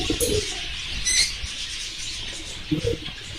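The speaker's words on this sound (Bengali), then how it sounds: "এখানে আমার আর একটা রুম পাখির" Caged birds coo softly and chirp in short bursts nearby in a farm room, with a brief flutter of wings and no talking.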